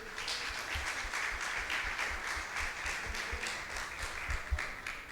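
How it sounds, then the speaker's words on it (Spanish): Church congregation at a Baptist evangelistic campaign gives a strong welcome applause, a sustained, even crowd of clapping with a steady rhythmic beat running through it, at moderate level. "vamos a recibirla como la recibimos en Iglesia Bautista, con un fuerte aplauso de bienvenida"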